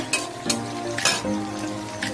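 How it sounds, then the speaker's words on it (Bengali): Chopped onions sizzle in hot oil in a frying pan while a spatula stirs them. A steady close crackle runs under several sharp scraping strokes against the pan, loud and with no voices. "পেঁয়াজটা দিয়ে একটু নাড়াচাড়া করবো"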